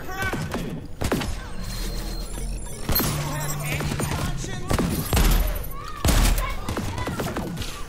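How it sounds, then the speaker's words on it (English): Enemy gunfire in the Crackdown 3 video game: bursts of shots and heavy thumps crackle in a dense, busy mix, with several louder impacts near the end and some game voices underneath. "Watch the enemy fire!"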